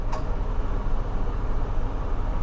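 A hail-damaged salvage auction car, sight unseen, idles steadily right after starting, a continuous low rumble held throughout with a brief click near the start.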